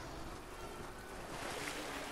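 Swimming or wading through water in a battle royale video game, with a steady watery rush and surf-like swash that swells slightly toward the end, heard alone without voices.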